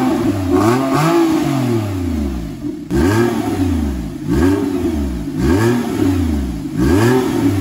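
A Porsche 911 997.2 Carrera 4S with a 3.8 L engine and a Scart exhaust is revved repeatedly, each loud, close rise and fall of engine note coming in quick succession between brief idle moments.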